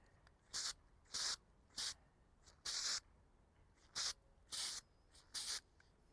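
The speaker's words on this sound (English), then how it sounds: "just spray it outside because you don't want to inhale the fumes on this" Clear aerosol grit coating sprayed onto a pickleball paddle outdoors, heard as seven short, close hissing bursts of varying length separated by brief pauses, with no talking.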